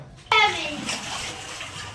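Rainwater pours into a Gujarati home during heavy rain, a sudden loud gush of running water that starts abruptly and keeps splashing steadily, with a voice and other talk mixed in.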